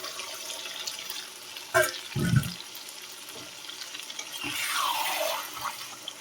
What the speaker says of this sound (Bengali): এতে একটু সামান্য জল দিয়ে ওর মধ্যে দিয়ে দেবো।